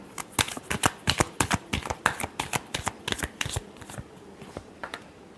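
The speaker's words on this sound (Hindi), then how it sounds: "Last shuffle." Tarot cards being shuffled close up, a quick run of crisp riffling snaps in an uneven rhythm that thins out toward the end.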